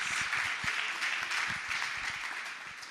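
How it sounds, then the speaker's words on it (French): Applause from a church congregation at a sermon, a steady wash of many hands clapping at moderate distance, even and sustained for a few seconds with no talk over it. "On peut l'applaudir"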